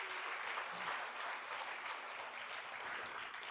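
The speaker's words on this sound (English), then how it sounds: "A round of applause for yourselves." A talk-show audience at a college event claps steadily in a dense, even burst of applause lasting a few seconds, heard from a distance.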